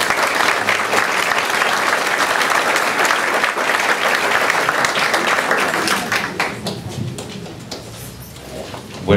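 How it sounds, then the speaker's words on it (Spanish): Warm congregational applause in a church, many hands clapping steadily for several seconds, then thinning and fading out near the end, heard from within the crowd. "Démosle un aplauso cariñoso."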